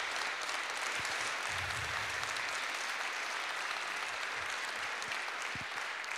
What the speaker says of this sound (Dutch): Wij geven hem nog even een groot applaus